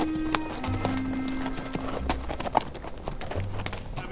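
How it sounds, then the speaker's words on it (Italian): Horses walking during a riding outing in the Italian countryside at Santopadre, hooves clip-clopping in an irregular steady rhythm close by, with faint voices in the background. "Stanno a camminare i cavalli"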